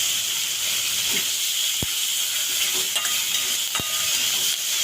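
Curry leaves drop into hot oil with peanuts and green chillies in a pan, giving a steady close sizzle and hiss with a couple of sharp crackling pops.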